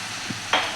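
Egg fried rice with red chili sauce and dark soy sauce is stirred in a hot pan, giving a brief scrape over a steady close sizzle.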